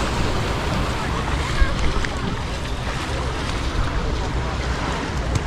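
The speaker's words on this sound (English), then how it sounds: "Just had some good wind coming through here now and it just stopped." Steady wind gusting along a beach in Phuket, Thailand, a broad continuous roar with surf-like rushing and microphone buffeting throughout, fairly loud and even, with no talk.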